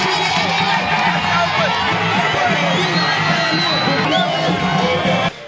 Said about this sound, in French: a été chaleureusement accueilli par des applaudissements et des cris de joie